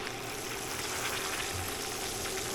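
Food frying in a pan gives a steady, dense sizzle that stays close and even throughout, with no talk.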